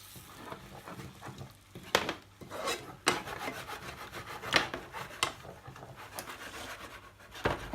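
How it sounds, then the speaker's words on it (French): Coconut milk being stirred into chicken fillets with pineapple and curry: a spoon scrapes and rubs against the pan in irregular strokes, moderately close, with no talking. "Et là, je rajoute le lait de coco."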